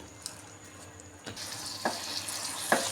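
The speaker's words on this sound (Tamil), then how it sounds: "கொதி வந்ததுக்கப்புறம் நம்ம தூக்கி ஃப்ரை பண்ணி வச்சுருக்கிற சிக்கனை ஆட் பண்ணி லைட்டாக ஸ்டர் பண்ணால் போதும்" Fried chicken is stirred into boiling sauce in a pan for a sweet honey-chicken dish. A steady low sizzle and bubbling sit close by, broken by a few soft scraping stirs of a spoon, with no speech.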